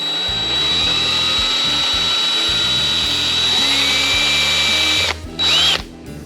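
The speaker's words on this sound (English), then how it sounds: "just take a drill and kind of enlarge those holes a little bit" A power drill enlarges holes for the lights on a 2004 Land Rover Discovery 2, running loud and close in one continuous whining burst, then briefly stopping and spinning up again near the end.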